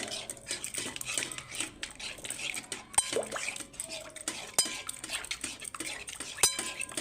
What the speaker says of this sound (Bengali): ভালো করে ফেটিয়ে এটাকে গুলিয়ে নেব।